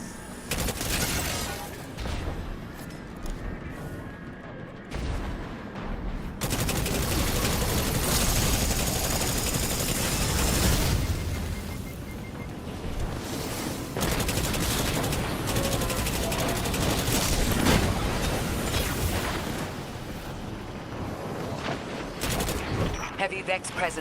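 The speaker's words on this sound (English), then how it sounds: "They're trading fire with an exile raiding party." Sustained gunfire from a Destiny firefight between Vex forces and an exile raiding party, dense rapid bursts and booming shots rolling almost continuously, briefly dropping out near the start before resuming loud and heavy.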